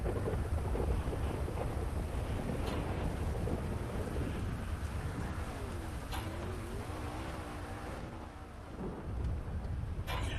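Stormy weather outdoors: steady, loud rumble of wind and thunder with rain-like hiss runs through the whole stretch, no voices.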